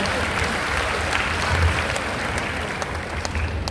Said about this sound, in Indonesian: Tepuk tangan dong buat Pak Hasim dan Ibu Ani.